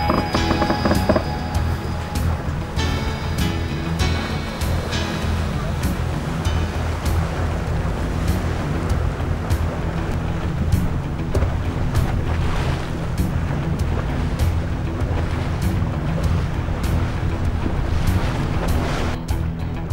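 Steady wind and breaking waves at sea off Newport during a sailing race week, with boats nearby; a continuous broadband wash of surf and wind buffeting the microphone, loud and unbroken throughout.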